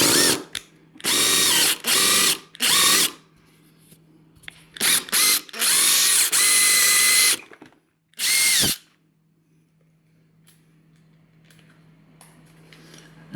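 A close, loud impact driver fitted with a screw extractor bites into a damaged screw in several short bursts of high whirring, separated by pauses, before going quiet with a low hum.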